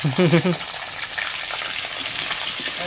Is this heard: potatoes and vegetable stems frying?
yes